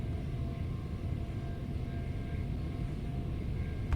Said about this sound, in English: I do like the sort of running sound on this train.